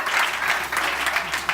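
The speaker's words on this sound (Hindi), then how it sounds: "एक बार जोरदार तालियां हो जाए आरके साहब के लिए" Audience applause at a Christmas skit, a dense wash of many hands clapping steadily and close for a short burst, with no talk over it.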